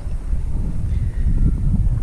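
Wind gusting at a fishing spot on a late afternoon, a steady low rumble buffeting the microphone throughout and swelling slightly in the second half, with no voices.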